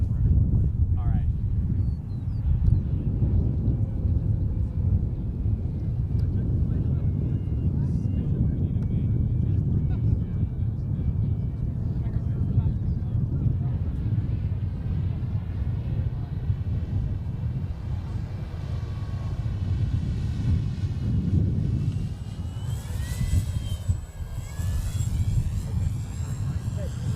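A model airplane at the AIAA Design/Build/Fly competition flies a loop outdoors, its motor droning steadily with a rising and falling whine as it passes, under heavy wind noise and occasional nearby talk.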